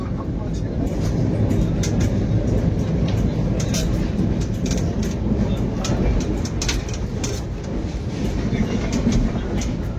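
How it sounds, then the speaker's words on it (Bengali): The 12245 Howrah–Bengaluru Duronto Express runs on tracks near Kharagpur, heard from inside the coach as a steady, close rumble with faint rhythmic rail clatter throughout. "সময় এখন 12টা 21, ট্রেন কিন্তু খড়গপুর ক্রস করছে।"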